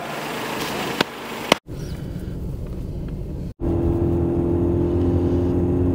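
A Mercedes 190E with rough running and poor starting, driven on a road test: a steady engine drone and road rumble inside the car, broken by two short cuts, with the engine note rising in the final stretch.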